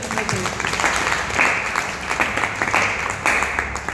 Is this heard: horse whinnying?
no